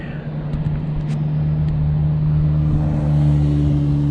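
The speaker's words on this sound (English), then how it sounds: "He's driving out in the sandbar" Car driving out onto a tidal sandbar, a steady low engine drone with a constant hum that swells slightly louder toward the end, heard close and alone.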